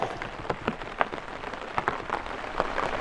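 Steady rain patters on a surface through a new morning, with scattered individual drops ticking louder at irregular moments over a constant wash of rainfall, no voices.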